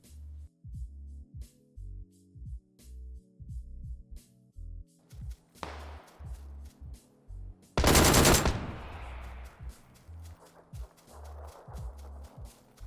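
Tommy gun shots in the battle royale game PUBG, fired single-tap as a string of evenly spaced sharp cracks, with one louder, longer burst of noise partway through.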